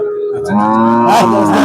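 A Sindhi-breed cow with her calf at the Hazratpur cattle market lets out one close, drawn-out moo that swells and holds for over a second.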